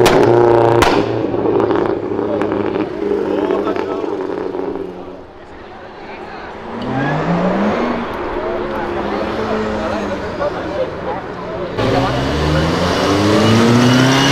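A Toyota Supra A91 revs loudly nearby, its engine pitch climbing in repeated sweeps and dipping between bursts, while people talk over the roar.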